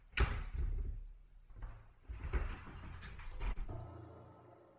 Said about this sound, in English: I knew this door was going to be useful.